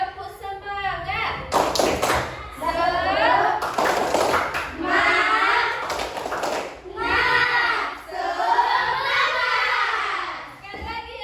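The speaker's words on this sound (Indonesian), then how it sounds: "Tepuk semangat." Children in an Indonesian classroom perform the tepuk semangat clapping chant, chanting loudly together in rhythmic phrases punctuated by sharp bursts of group claps.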